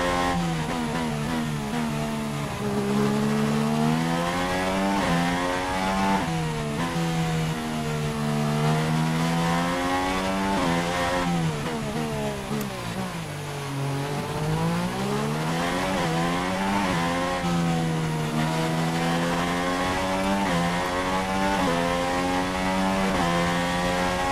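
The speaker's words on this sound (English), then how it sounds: "You actually hear the wheel making noise" A car lapping a race track, its engine droning and rising and falling in pitch with a steady rolling wheel whine underneath, loud and continuous throughout, with no voices.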